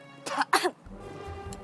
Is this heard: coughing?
yes